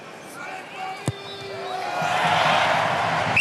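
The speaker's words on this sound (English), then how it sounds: "And the cheer rings around the Stade Chambois." A rugby stadium crowd at Stade Chambois rises into a broad roar of cheering after a successful kick in a Top 14 match, swelling from a murmur to sustained distant noise, with a single sharp thud early on.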